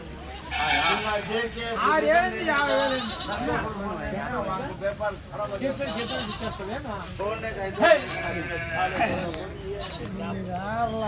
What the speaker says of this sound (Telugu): ఇవైతే పెద్ద మేకలు చిన్న పిల్లలు అన్ని కలిపి ఉన్నాయి అనమాట